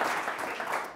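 Applause from a business audience after a corporate speaker's request, a continuous wash of many hands clapping at even loudness, tapering slightly at the end.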